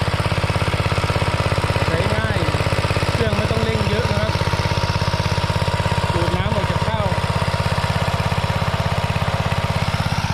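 A 4-inch gasoline water pump engine runs steadily at a low, even throttle, a continuous droning hum throughout with a faint voice briefly audible in the background.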